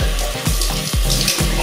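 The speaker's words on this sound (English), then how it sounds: "Put some cold water in." Water streams steadily from a tap into a sink, a continuous splashing rush with a few brief gurgling shifts, close and fairly loud.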